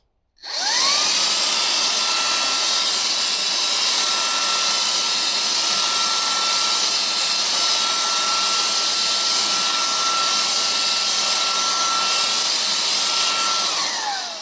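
A GTM SG18/700BL cordless paint sprayer runs steadily, a loud, close, high-pitched motor whine with airy hiss that starts abruptly and holds for about fourteen seconds before winding down, with no talk.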